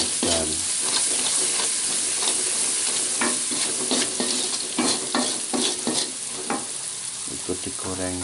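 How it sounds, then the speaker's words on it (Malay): Ground garlic frying in hot oil with shallots and chilies, a steady loud sizzle broken by repeated scraping and stirring strokes of a utensil against the pan. "Ikut digoreng bersama bawang merah dan cabai."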